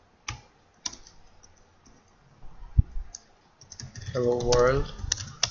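C++ code being typed on a computer keyboard in a desk setting, scattered close key clicks in short bursts with pauses, then a voice speaking over the last few taps.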